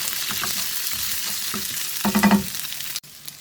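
Green chilies and roughly cut tomato are stirred in a frying pan, with a steady sizzle and a brief burst of scraping stirs near the end.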